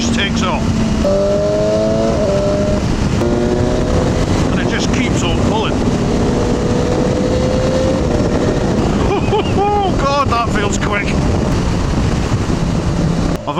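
BMW S1000XR motorcycle accelerating hard from around 6,000 rpm, engine pitch rising through repeated gear pulls under heavy wind roar, with a rider talking over the loud, close engine.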